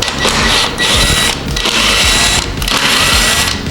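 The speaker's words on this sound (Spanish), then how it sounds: "vamos a retirar estos 3 tornillos." Mechanical work on an Italika Z-200 motorcycle engine's right-side cover, removing three screws: a loud, near, rapid buzzing rattle of a powered driver in three bursts separated by short pauses.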